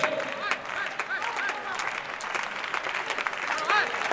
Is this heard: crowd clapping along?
yes